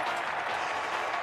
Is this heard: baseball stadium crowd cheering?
yes